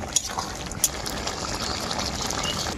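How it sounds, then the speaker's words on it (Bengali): Prawn and bottle gourd curry gravy bubbles in a pot, a dense, close wash of liquid churning with a couple of sharper splashy pops near the start. "চিংড়ি মাছটা দেওয়ার পরে ঝোলটা আমি আবারও খুব ভালো করে ফুটিয়ে নেব"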